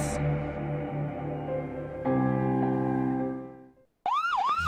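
A police siren in a Ghana radio public service announcement holds a steady loud tone for about four seconds, then briefly drops out and returns as a rapid rising-and-falling wail, with no talk over it.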